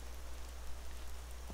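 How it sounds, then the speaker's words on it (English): Rain in the video game Skyrim makes a dense, even hiss with a low steady hum beneath it, brief and unchanging. "Because it's raining."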